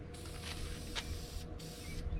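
Short hissing bursts from a spray paint can coating a part of a Firebird car, several close sprays in quick succession separated by brief pauses.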